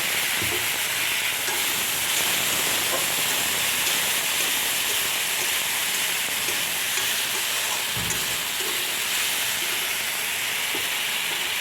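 Masala for a fish curry sizzles and fries in a pan with a little water added, a loud, steady hiss throughout with faint stirring scrapes and no talk.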